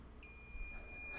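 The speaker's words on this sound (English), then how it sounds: "rub around the board, rub until I find some kind of a beep" A multimeter in continuity mode gives a thin, steady electronic beep while probes touch an iPhone 8 Plus logic board during camera-fault repair, sounding brief and quiet over faint background hiss.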